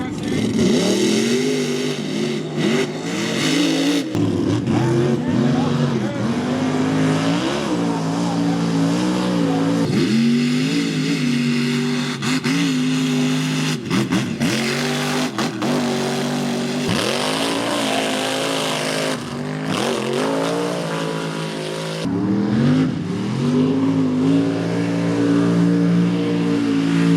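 Mega trucks race in lap-one action at South Georgia Motorsports Park, their engines roaring and revving in rising and falling sweeps for the whole stretch, loud and close, with occasional tire noise.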